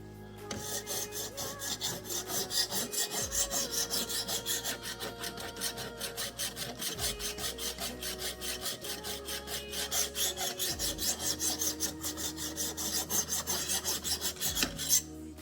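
A knife is sharpened on a 200 grit stone, giving a close, rhythmic rasping scrape of repeated strokes in steady back-and-forth cycles, each pass gritty and even, with brief pauses between sets.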